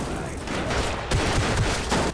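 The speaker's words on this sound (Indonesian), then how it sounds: "Walker merayap dan mengambil pistol menembak Jack dan Vincent." Pistol gunfire erupts during a chaotic film shootout, a rapid flurry of sharp shots packed closely together and louder in the second half, with faint voices buried in the mix.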